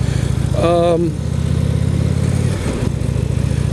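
A motorcycle engine drones steadily while being ridden, a constant low rumble throughout, with a short whistling tone rising above it early on.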